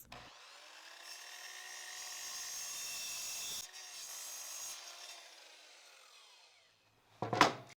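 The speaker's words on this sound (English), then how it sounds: "This piece will be cut to 39 centimeters in length." A piece of wood is sawn to length, a continuous rasping, whining cut that rises and holds for several seconds, dips, carries on, then dies away, ending in a brief sharp knock.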